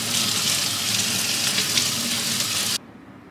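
Tap water runs steadily over Quebec strawberries being washed in a kitchen sink, a close, even broadband rush that cuts off abruptly near the end, leaving quiet.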